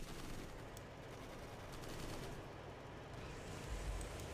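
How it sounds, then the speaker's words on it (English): Enemy soldiers' gunfire in the World War II strategy game Codename: Panzers, sustained rattling volleys and scattered shots over a low battlefield rumble, fairly faint and steady with a slight swell near the end. "They're shooting at us!"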